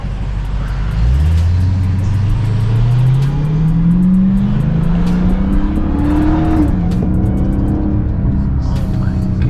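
A 2020 Dodge Charger Hellcat Widebody accelerating hard from inside the cabin, engine note climbing steadily with a rising supercharger whine, loud and continuous, then easing off near the end.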